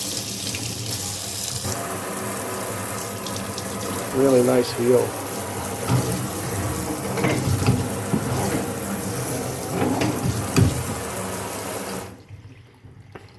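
Delta Eldridge kitchen faucet running in a strong, steady stream while someone talks over it.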